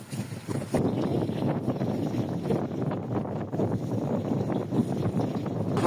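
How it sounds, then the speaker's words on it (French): A sailboat under sail on the open sea between Guadeloupe and Martinique, pushed by about 20 knots of wind at 7 knots, gives a steady loud rush of wind buffeting the microphone over hissing water along the hull. "On avance à la voile, c'est impeccable"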